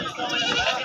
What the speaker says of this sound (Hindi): ये वाली बकरी है जनाब